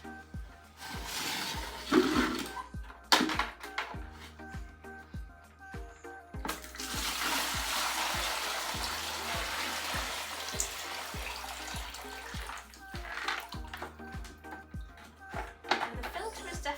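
Water splashes and trickles from a squeezed sponge taken from an Eheim canister aquarium filter, a continuous wet pouring and dripping sound of moderate loudness, close by, with a few louder splashes and no talking.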